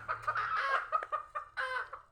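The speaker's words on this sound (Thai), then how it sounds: "อย่าไปกวนไก่เด้อ" Chickens clucking close by on a rural Thai homestead, a series of short, irregular clucks and squawks in quick succession with a low hum underneath.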